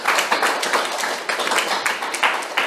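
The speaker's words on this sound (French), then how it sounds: "Applaudissons pour glorifier le Seigneur." Church congregation applauding during an online worship service in Lille, a dense, brisk wash of many hands clapping, close and sustained with slight rhythmic pulses.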